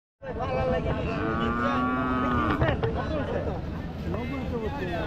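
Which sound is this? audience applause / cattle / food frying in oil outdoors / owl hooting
cattle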